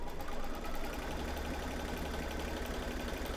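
A sewing machine stitching a fabric mug rug runs steadily, a continuous close mechanical whir with a fast repeating needle chatter throughout, with no talk.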